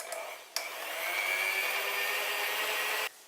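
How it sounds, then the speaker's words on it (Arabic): A steady electric mixer whirs continuously, whipping cream together with cheese and bitter cocoa for a chocolate cake, starting briefly, pausing, then running loud and even for about two and a half seconds before cutting off. "غادي نضيف هنايا الكاكاو المر، وغادي نخلط الكل حتى نحصل على كريمه كثيفه"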